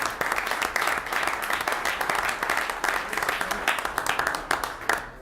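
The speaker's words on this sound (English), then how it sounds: "Let's give him a round of applause." Steady round of applause from attendees at a Westmont village board meeting, many hands clapping briskly for about five seconds before cutting off sharply.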